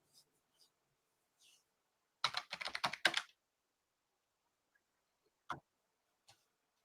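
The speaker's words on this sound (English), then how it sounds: "Can you see me typing hello?" Typing on a computer keyboard: a quick burst of rapid key presses in the middle, with a few isolated taps before and after, close and fairly quiet in an otherwise silent room.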